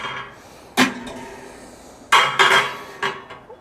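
Stainless steel half grill racks from a multi-level cooking oven are handled, giving a few sharp metallic clanks and clatters, one early and a cluster later, close and fairly loud against quiet room noise.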